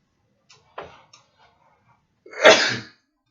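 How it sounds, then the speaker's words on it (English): A single loud sneeze bursts out after a few faint clicks and small sounds, close and sudden, then silence. "Sorry about that sneeze."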